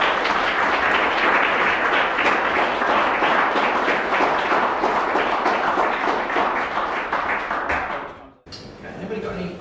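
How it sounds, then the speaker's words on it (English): An audience at a quarterly economic update presentation bursts into sustained applause, loud and dense clapping that carries for several seconds before breaking off, with a voice speaking right after. "I think we'll just give a quick round of applause for another."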